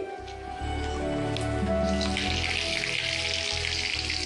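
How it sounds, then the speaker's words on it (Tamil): Chili, curry leaves and mustard seeds fry in hot oil for a banana stem sambar. A low crackle swells into a loud, continuous sizzling hiss with steady background hum underneath, and no voices. "பெருங்காயம் போட்டு நல்லா இதை வதக்கிக்கோங்க. கடுகு நல்லா பொரிஞ்சு சீரகமும் நல்லா பொரிஞ்ச உடனே"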